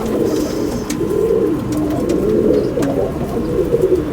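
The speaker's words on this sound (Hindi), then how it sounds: "ये कबूतर है जी, लाल आंख का" Red-eyed pigeons cooing continuously and close, a low rolling murmur with faint chirps and rustles above it.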